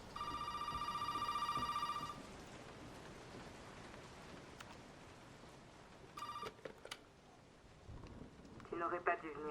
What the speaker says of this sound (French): Oui, oui, il y a un téléphone qui sonne.